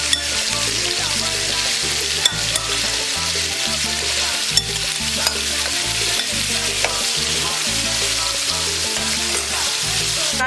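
Pork frying in a hot pot over medium-high heat gives a steady, dense sizzle and crackle with occasional sharp pops, running unbroken for the whole stretch under a rhythmic music bed.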